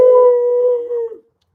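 An American bully dog lets out a single loud, close howl, a sustained tonal cry that wavers and then breaks off.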